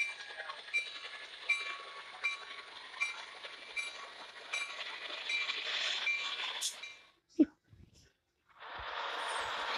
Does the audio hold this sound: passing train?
yes